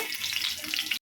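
Steady crackling sizzle of cumin seeds hitting hot oil, close and bright, continuous for about a second before cutting off abruptly.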